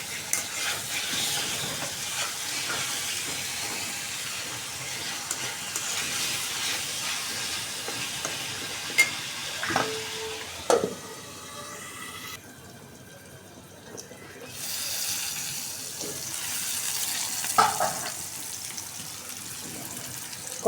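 Potatoes being sautéed in a pan for a curry give a steady, broad hiss with occasional light clinks of the spoon, dipping briefly quieter midway before the sizzle returns.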